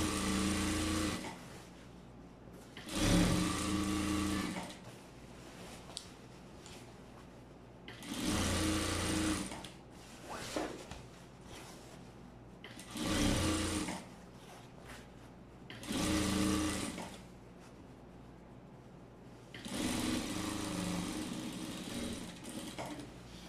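Sewing machine stitching the side seam of wide-leg trousers, running in five or six loud bursts of steady whirring separated by short pauses, with no talk over it.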